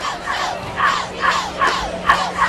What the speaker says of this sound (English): Big crowd here on opening night, at least the home opener for the Shells